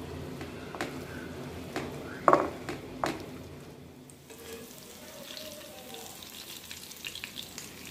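Lentil and onion fritters (piyaju) frying in oil, a soft sizzle with a few sharp clatters early on, then quieter frying that fades.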